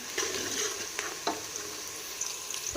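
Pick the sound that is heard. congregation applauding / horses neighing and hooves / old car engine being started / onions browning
onions browning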